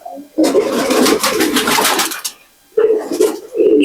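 A pair of Pakistani pigeons coo loudly and up close, one long rolling phrase followed by a brief pause and then shorter repeated coos.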